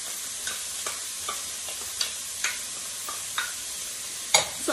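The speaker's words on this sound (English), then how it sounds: "So I'm going to let these cook for about 5 to 7 minutes until the vegetables are nice and tender." Diced carrots, celery and minced garlic sizzle softly in a pot, a steady fine crackle punctuated by light, regular taps and scrapes of stirring.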